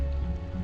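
Steady rain falls throughout in the Nancy Drew video game, a dense, even patter with a low rumble underneath and a faint hum, brief and uninterrupted, with no voices.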